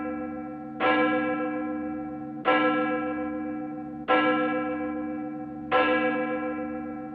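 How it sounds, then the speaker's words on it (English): Church bell rung at the start of a Sunday service, four evenly spaced clear strikes, each ringing out and decaying slowly before the next. "we ring this bell"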